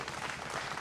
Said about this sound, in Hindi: मैं इनके लिए ताली बजाइए।